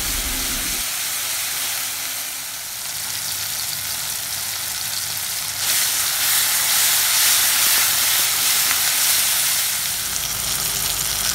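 Steady sizzling and crackling of tomatoes sautéing in a hot pan for egg parotta, continuous and close, getting a little louder and hissier midway.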